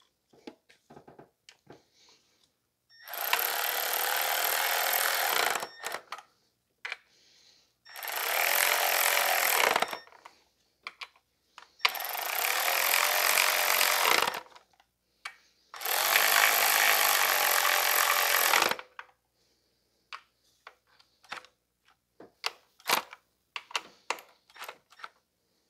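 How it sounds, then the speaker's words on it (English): Four bursts of a power tool whirring on a 2005 Toyota Corolla as the ignition coils are tightened down, each lasting a few seconds with short pauses between, plus small clicks and handling noises in the gaps. "Install the connectors and tighten down the coils."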